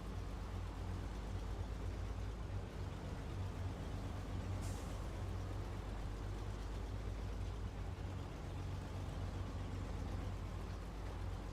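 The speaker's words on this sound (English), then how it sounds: "Old truck just kind of chug-a-lugs" An old truck in a video game chugs along with a steady, low, rumbling engine drone that stays constant and fairly loud throughout, with a brief hiss partway through.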